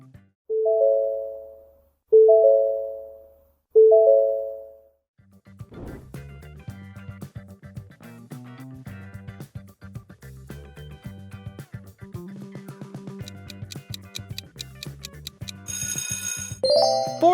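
Ford logo sound: three separate bell-like tones ring out one after another, followed by a bouncy electronic melody with steady percussion that builds into a bright shimmering ending, loud throughout with no voices.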